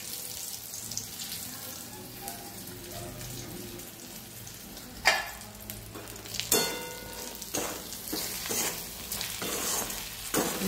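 Sun-dried neem leaves fry in oil over a low gas flame with a soft, steady sizzle, broken by a few sharp clatters and stirring scrapes in the second half.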